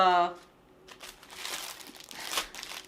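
Plastic baggies holding diamond painting supplies crinkle and rustle up close in short irregular bursts, after a brief moment of voice at the start.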